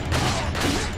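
Gunfire in the video game Resident Evil 4 Ultimate HD Edition: a quick volley of two loud, noisy bursts over a dense, continuous rumble of game sound.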